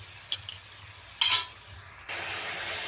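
Vegetables and salt are stirred in a cooking pan: a few light clinks and a brief scrape, then a steady frying hiss takes over toward the end.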